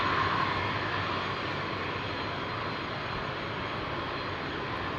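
An aircraft at Madeira Island Airport gives off a steady, moderately distant engine roar that holds even for several seconds, with no talk.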